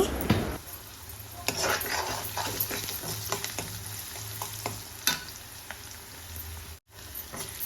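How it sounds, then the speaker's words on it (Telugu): Brinjal and kabuli chickpeas fry with salt in a pan, giving a steady close sizzle with occasional clinks of stirring against the pan, and no voices. "వన్ టేబుల్ స్పూన్ సాల్ట్ని యాడ్ చేసుకొని ఫ్రై చేసుకోవాలి."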